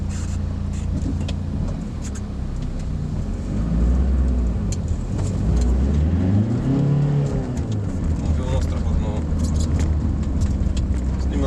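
A 110 hp 1.9 TDI diesel engine in a VW Passat B5 revs hard and climbs at full throttle from second gear, droning loudly and steadily close to the listener, with rising pitch.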